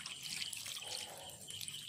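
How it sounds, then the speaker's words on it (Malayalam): Water is poured onto potted bowl-variety lotus plants, a steady splashing trickle with small gurgles and drips, close and continuous for about two seconds without talk. "ഇനി നമുക്ക് നമ്മുടെ ഈ ഒരു രണ്ട് പ്ലാന്റ്സിലും വെള്ളം ഒഴിച്ചു കൊടുക്കാം."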